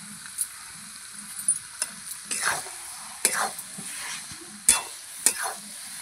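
Cabbage cooking in ghee with garam masala in a pan, with a soft sizzle underneath and a few sharp scrapes and clinks of a spoon as it is stirred in uneven strokes, and a faint voice in the background.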